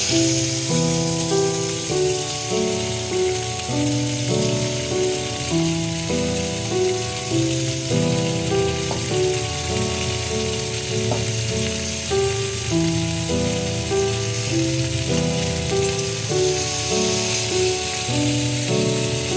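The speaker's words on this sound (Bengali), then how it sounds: "তো কড়াই তেল দিয়েছি, এবার আমি কুঁদরিটা ছাড়বো।" Ivy gourd (kundru), salted beforehand, fries in hot oil in a wok with a steady sizzle that runs the whole time. A melodic instrumental music track plays loudly over it, and no one speaks.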